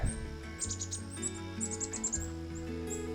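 Rapid high chirps in quick bursts, a squirrel calling repeatedly over a low steady hum in a marsh, moderately close.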